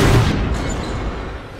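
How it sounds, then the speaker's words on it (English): Turrets firing in Bioshock 2, a loud, dense burst of gunfire-like booms at the start that trails off into a sustained, rumbling barrage for over a second, with no voices. "Stop firing at my turrets!"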